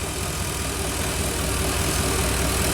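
A classic Chevy engine idles with the throttle raised slightly, a steady, loud, dense rumble running without a break, close to the car, no voices.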